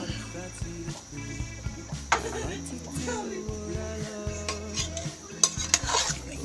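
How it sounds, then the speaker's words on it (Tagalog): A utensil stirs cassava in a cooking pot of ginataang kamoteng kahoy, cassava simmered in coconut milk, scraping and clacking against the pot in a steady rhythm with a few louder knocks, and a voice faintly behind it. "ihalo na natin yung ating kasaba"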